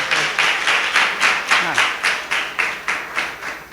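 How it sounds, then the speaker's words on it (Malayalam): A church congregation at an IPC Sunday service in Cheriyakonny claps in a steady rhythm, about ten even beats of many hands together, close and loud, with no talking over it. "ഒരു നല്ല കയ്യടി കൊടുത്തേ."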